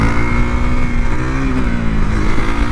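A KTM Duke 390 motorcycle fitted with a 56 tooth rear sprocket, its engine revving loud and close with a steady, slightly rising roar and no talk over it.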